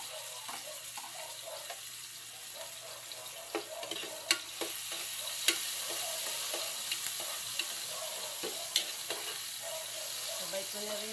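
Garlic and tomato cooking in a pan, giving a steady low sizzle with scattered clicks and scrapes of stirring, close and continuous without talk.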